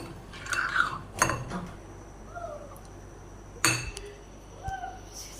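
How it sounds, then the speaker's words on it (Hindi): A spoon beats an ice cream mixture in a bowl, giving a few scattered metallic clinks and knocks with quiet pauses between them. A faint squeak or mewing sound appears now and then. "इसी तरह हमने चम्मच की मदद से इसे अच्छे से बीट कर लिया है।"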